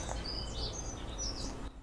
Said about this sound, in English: the blue tits are going crazy in the bird feeder